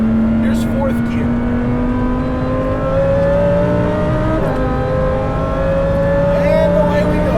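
An 870-horsepower supercharged Lamborghini Huracan Performante accelerating hard in fourth gear on a track, its engine note climbing steadily in pitch with a whining supercharger tone, loud and close from inside the car, with someone talking over it.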